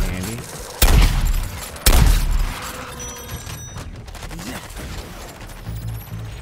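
Two loud, sharp sniper rifle shots about a second apart, each a heavy boom with a ringing tail, in the video game Suicide Squad: Kill the Justice League, followed by quieter game ambience.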